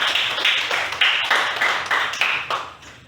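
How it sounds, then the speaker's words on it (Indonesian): A small group claps in a classroom at the end of a lesson, bursts of hand claps rising and fading in a loose rhythm about every half second, close and fairly loud. "Mari kita memberikan tepuk tangan"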